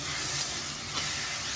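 Onion and tomato paste frying in a kadhai, a steady close hiss and sizzle of oil and masala, continuous and even for a short stretch.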